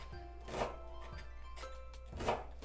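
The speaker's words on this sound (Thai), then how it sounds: "เดี๋ยวทุบ ทุบกระเทียมใส่ไปซะหน่อย" Garlic pounded in a home kitchen: three separate dull thumps spaced about a second apart, close by and fairly soft over a quiet background.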